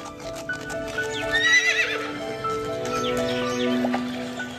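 Horses of a vast ancient army with chariots neigh and whinny over steady clip-clopping hooves, several animals close by with layered calls throughout.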